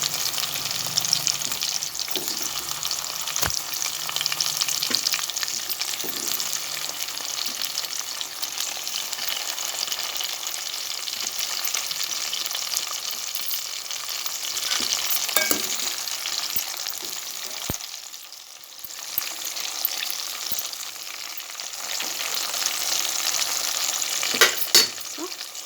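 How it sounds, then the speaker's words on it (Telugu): Eggplants and green chili fry in oil in a pan, giving a steady, moderately loud sizzle with occasional soft clatters over a long stretch and no talking. "సో ఇది కొంచెం బ్రౌన్ అయిన తర్వాత మన వంకాయలు వేసేసుకోవాలండి."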